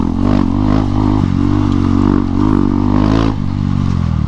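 A KTM Duke 250 with its exhaust removed rumbles loud and close while off-roading on rough ground, a steady raw engine drone with small throttle swells and clattering, no talk.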